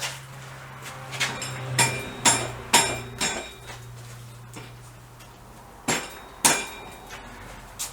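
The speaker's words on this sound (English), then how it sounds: "Little rubbery hammer." Small rubber hammer tapping a wheel spindle on a BSA B50T motorcycle in a workshop, a series of sharp dull knocks at an irregular pace, two pauses between clusters, with a low hum underneath.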